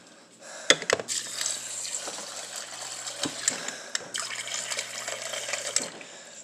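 Water runs from a tap into a container for crushing a can, a steady close hiss of flow broken by a few sharp knocks and clatters.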